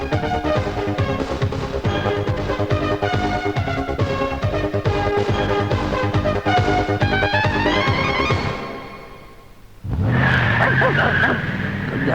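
A fast car races up with a loud engine roar and drives off as a comedy sound effect, the engine tone climbing before a brief dip and a burst of renewed acceleration, with no talk.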